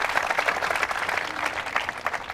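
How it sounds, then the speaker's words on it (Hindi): At a quiz show at a government women's engineering college in Ajmer, the audience gives steady, moderately loud applause, a dense patter of many hands. "तो तालियां जोरों से बजाइए"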